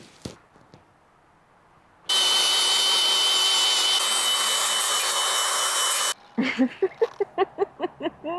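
An angle grinder works on steel to strip off paint in a parking lot, a loud steady broadband grind running about four seconds alone, ending abruptly before a series of rhythmic scraping strokes.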